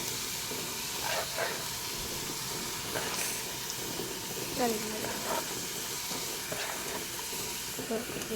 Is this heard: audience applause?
no